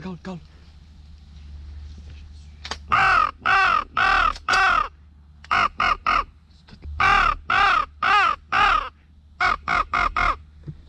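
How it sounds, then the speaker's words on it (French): Repeated loud crow caws during a crow hunt, delivered in several quick bursts of three to four calls with short pauses between them, close and clear over a low steady background hum. "aller chercher la corneille qu'on a tirée"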